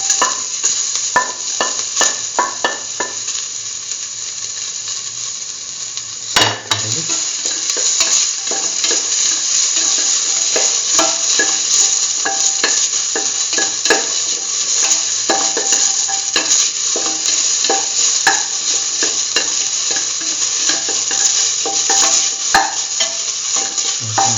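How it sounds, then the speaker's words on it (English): Onion pieces fry in a pan with a steady, close sizzle, broken by frequent scraping and clinking as they are stirred. "Put in the onion pieces."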